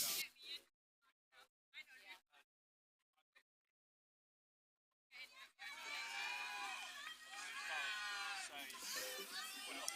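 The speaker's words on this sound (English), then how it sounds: "we can hear the supporters from Spain cheering here" Spanish supporters cheer and shout at the finish of a beach sprint rowing race at the 2024 World Rowing Beach Sprint Finals, a loud, dense crowd roar that rises after a few seconds of sparse talk and silence and holds steady to the end.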